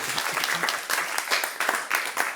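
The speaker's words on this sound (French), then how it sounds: "Est-ce qu'on peut applaudir Gilles pour sa deuxième définition, s'il vous plaît?" A crowd applauds, a dense burst of many hands clapping close by.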